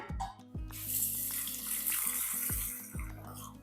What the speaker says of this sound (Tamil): இப்போ அதை கழுவிட்டு வந்துடுறேன்.